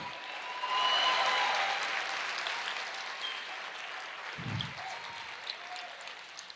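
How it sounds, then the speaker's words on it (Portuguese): A church congregation applauding at a worship service, a steady wash of clapping that swells early and holds, with a brief low thump partway through. "Aplauda o Senhor."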